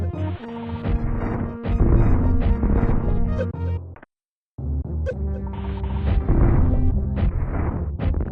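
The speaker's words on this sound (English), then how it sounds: "It's supposed to be like a glass breaking sound effect." Loud crashing and shattering in Super Metroid, a glass-breaking effect from the game, with heavy smashing bursts on both sides of a short silent break.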